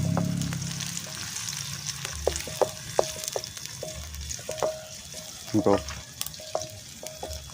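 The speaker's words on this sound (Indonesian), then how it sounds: "Kita tumis sampai harum ya guys." Foraged forest mushrooms sauté in a pan with a continuous soft sizzle, punctuated by repeated light clicks and scrapes of a utensil stirring; a voice speaks briefly near the start.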